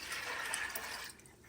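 Water pours steadily into a cooking pot holding soaked whole moong beans, a close, continuous splashing rush that tapers off toward the end.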